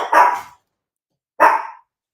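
Household dogs bark in two sharp, close bursts separated by a short pause, loud and alone with no talking.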